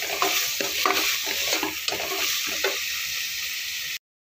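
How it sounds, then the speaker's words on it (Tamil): Tomato mixture sizzles steadily in a pan while being sautéed for tomato pulao, with repeated scraping stirs, then cuts to a brief silence at the end. "இது நல்லா தொக்கு வர அளவுக்கு வதக்குவோம்."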